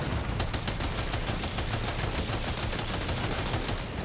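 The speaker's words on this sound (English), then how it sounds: "hey, machine gun." Bursts of machine gun fire from the video game Death Stranding 2 crackle loud and dense in rapid repeated volleys, filling the whole stretch with harsh, noisy reports.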